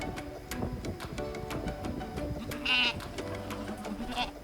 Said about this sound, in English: there were 3 or 4 goats